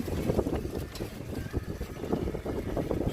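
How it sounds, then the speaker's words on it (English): Wind gusting over a fishing boat off Crab Island in Destin, Florida, a loud continuous rumble buffeting the microphone, with water and hull noise mixed in and no clear talking. "The wind's picking up."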